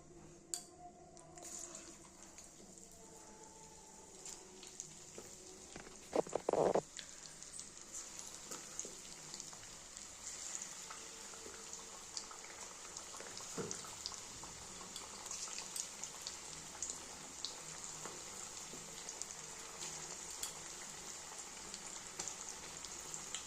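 Chicken pakora pieces frying in hot oil in a kadai give a faint, even bubbling hiss throughout, with a brief clatter near the middle.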